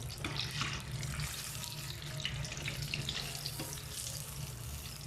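Freshly deep-fried beef cromesquis are drained at a kitchen sink while water runs, a steady close hiss of flowing water with splashy texture throughout.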